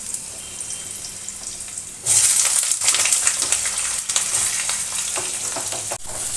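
Long thin-sliced potatoes fry in oil, with a loud steady sizzle that jumps up sharply as the potatoes hit the hot pan and continues hissing with faint stirring.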